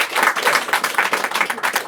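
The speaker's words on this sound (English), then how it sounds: "Everybody, give him one more round of applause." A live audience at a podcast recording in a bookstore gives a round of applause, close and lively, with rapid overlapping claps and a few cheers swelling and dipping throughout.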